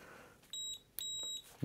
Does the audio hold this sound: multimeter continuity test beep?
yes